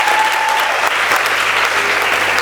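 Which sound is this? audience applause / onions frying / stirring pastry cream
audience applause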